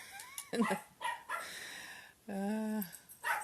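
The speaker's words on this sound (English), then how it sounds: "My puppy dogs are barking." Pet dogs bark, yip and whimper indoors in several short separate bursts, moderately close, with no talking over them.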